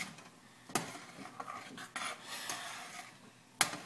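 A spoon stirs homemade flax seed gel in a pot, with quiet wet scraping and several sharp clinks of metal against the pot rim, close and sparse, without speech.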